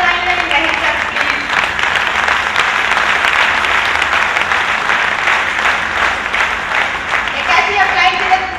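A seminar audience in Ludhiana gives thick, sustained applause, with many people clapping steadily and fairly loudly for the full stretch. Faint tonal sounds run underneath.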